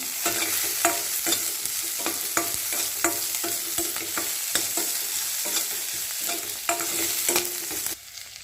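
Green chillies fry in oil in a pan while a spoon stirs them, with steady sizzling broken by repeated scraping strokes at an even rhythm, close and moderately loud.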